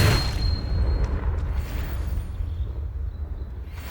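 A Confringo blasting spell in Hogwarts Legacy bursts with a heavy boom right at the start, its deep rumble trailing off over the next few seconds with faint crackles.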